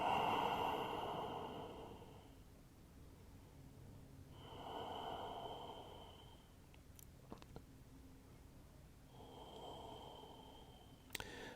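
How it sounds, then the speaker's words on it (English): Deep, slow breathing during a core-conditioning yoga session, with three long, soft breath cycles a few seconds apart, faint and close, with no talk. "Deep breaths."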